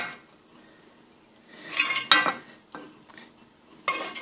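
A metal spatula scrapes and clatters against a cast iron pan while hash brown remnants are pushed into a pile, coming in several close bursts of scraping and clinking with quiet pauses between.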